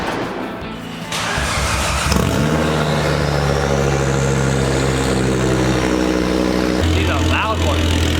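A 2004 Volvo V70R with a straight-pipe exhaust cranks over and catches, then settles into a loud, deep, throbbing idle that drones steadily, shifting pitch slightly near the end.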